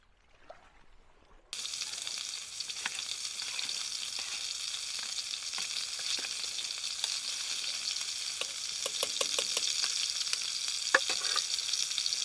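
Lamb burgers flavoured with cumin, paprika and mint sizzle steadily in a pan at a wild camp on an Irish island, a continuous loud frying hiss that kicks in after a quiet second, with occasional pops and spits.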